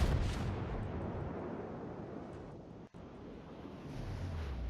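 Heavy naval gunfire from a Kongo battleship in World of Warships, a continuous booming rumble with wind and sea noise, briefly cutting out midway before the low roar resumes.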